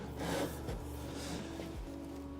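Long sanding beam with a 16-inch radius drawn across a guitar fretboard in a repair shop, giving a few soft rasping strokes over a low steady hum.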